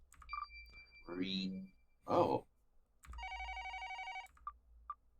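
Inside a courtroom video game, an electronic telephone ring trills in a sustained tonal burst with short beeps around it, between moments of game voice effects and a brief spoken exclamation.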